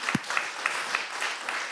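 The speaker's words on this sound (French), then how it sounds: "Est-ce qu'on peut applaudir, s'il vous plaît?" Audience applause at a pitch event, loud and close, with dense steady clapping and a few sharper individual claps standing out.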